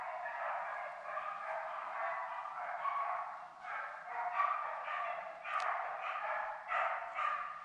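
A pack of hunting dogs barks and yelps continuously while chasing wild boar during a driven hunt, dense overlapping voices at moderate distance, with sharper yips rising now and then.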